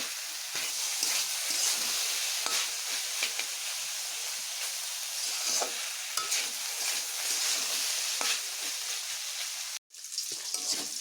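Spices frying in a pan for a taro (aru) curry, a steady dense sizzle with scattered crackles and stirring clicks, close and loud throughout, breaking off briefly near the end before resuming.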